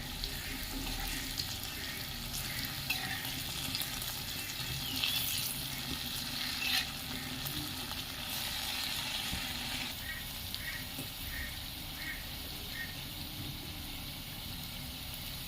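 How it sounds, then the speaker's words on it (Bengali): Palm fruit and flattened rice fritters deep frying in hot oil make a steady, dense bubbling hiss with faint clinks, continuous and fairly close. "তেল গরম হয়ে গেছে, এবার আমি ফুলুরি ভেজে নিচ্ছি।"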